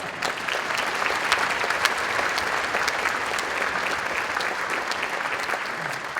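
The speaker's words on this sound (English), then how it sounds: "How about a round of applause?" An audience applauds at an orchestra holiday concert, a dense and steady clapping from a crowd that holds at full strength throughout.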